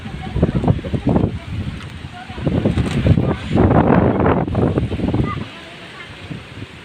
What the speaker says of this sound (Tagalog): Super lakas ng hangin rin dito.